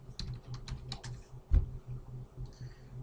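Keys clatter on a computer keyboard at a Windows Server 2012 Core command prompt, a quick irregular run of close taps with one heavier thump midway.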